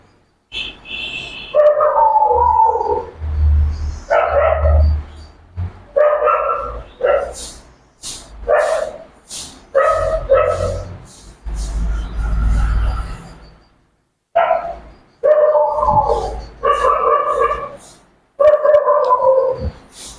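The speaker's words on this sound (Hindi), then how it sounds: "कहां से कुत्ता इतना भौंक रहा है" A dog barks repeatedly and loudly in short bursts separated by brief pauses, close by, with a few whimpering yips mixed in.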